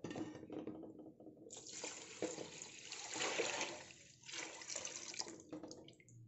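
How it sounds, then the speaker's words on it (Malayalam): Water poured from a glass into a pot of rice for crab biryani, a steady splashing pour that swells and dips over several seconds, fairly close and alone. "അപ്പോൾ ഇതിലേക്ക് വെള്ളം ഒഴിച്ചു കൊടുക്കാം."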